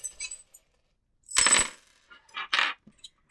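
Small metal divination charms tossed for a reading, clinking and jingling as they land in a couple of quick bright bursts with faint scattered taps around them, close and clear.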